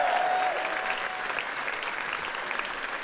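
An audience at a live comedy-style stage event claps steadily for a guest, a dense, even wash of applause filling the whole stretch at moderate loudness.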